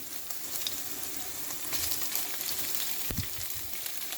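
Sliced chicken fries in a home pan with a steady, moderate sizzle, close by, broken near the end by a brief clatter or stir, with no talking.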